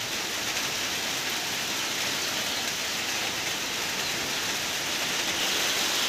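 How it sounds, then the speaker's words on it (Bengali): Steady rain falls outside a chicken farm, an even, continuous hiss of drops on surfaces at moderate distance, soft and unbroken with no voices. "বাইরে বৃষ্টি হচ্ছে।"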